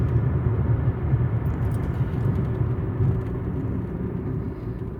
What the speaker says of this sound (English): Because I'm driving right now.